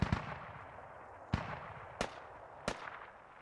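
AK rifle gunfire in a multiplayer shooter match: three sharp, separated shots at a steady pace, each with a short ringing tail over a low background of game noise.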